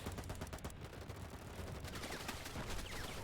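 Rapid bursts of gunfire from a military video game trailer, dense and continuous, with repeated automatic-weapon volleys layered over a loud battle mix.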